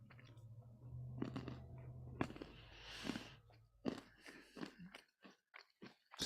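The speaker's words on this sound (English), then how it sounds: "Pardon my chewing." Close, crunchy chewing of food with sharp bites and irregular crunches, loudest in the middle and trailing into softer chews near the end.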